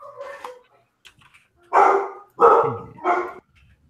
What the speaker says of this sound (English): At least once a stream, they have to fucking bark.